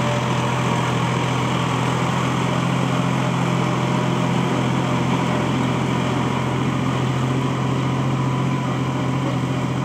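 A New Holland TT45 tractor plowing a rice field, its engine droning steadily and loudly close by with a constant low hum throughout, no voices.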